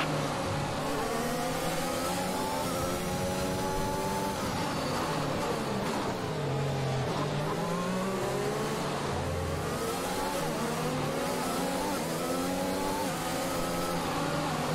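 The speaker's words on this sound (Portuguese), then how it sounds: "Vamos esquentar o carro nessa volta. Vamos testar as marchas." A Formula 1 race car in F1 2021 warms up on a lap, its high-pitched engine whine loud and continuous, climbing and dropping as it runs through the gears, with no voices.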